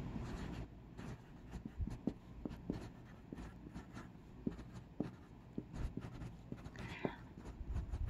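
Marker or chalk writing on a board during a lesson on controlled experiments, with short scratchy strokes in bursts and pauses, fairly close, with no talk over it.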